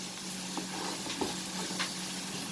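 Ginger garlic paste with coriander powder, Kashmiri red chili powder and turmeric frying in a pan, a soft continuous sizzle with a few light stirring taps, fairly quiet and steady.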